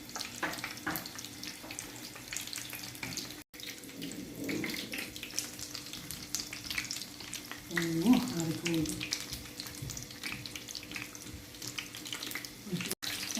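Food fries in a pan with a continuous soft sizzle and crackle, broken by occasional stirring or scraping and faint voices nearby.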